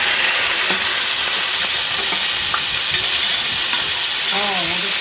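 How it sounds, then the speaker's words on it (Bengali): Leafy greens hit a hot frying pan after garlic and dried chillies, giving a loud, continuous sizzle with stirring scrapes close by. A brief voice murmurs near the end. "ভাজা হয়ে গেছে, দিয়ে দিলাম শাক।"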